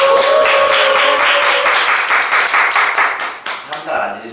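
A crowd applauds loudly together, dense clapping that gradually thins into a few scattered claps at the end, with faint voices in the room.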